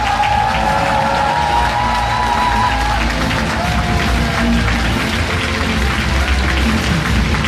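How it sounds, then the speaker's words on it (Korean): A large crowd at a Busan welfare rally applauds and cheers loudly, with continuous dense clapping and shouting voices filling the space at steady intensity throughout. "큰 박수, 함성 질러볼까요"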